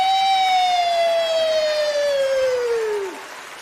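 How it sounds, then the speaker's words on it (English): A descending siren tone, like a police or emergency vehicle wail, played as a sound effect during live commentary of a 2023 XFL Championship football game. A single loud, clean, steady tone with strong harmonics slides slowly downward and fades out at the end. "You got to call the suspect siren for myself."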